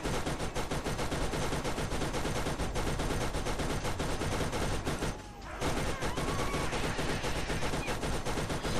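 Turret gunfire in the video game Borderlands, a relentless rapid stream of loud shots that fills the whole clip, broken only by one brief half-second pause before the firing resumes.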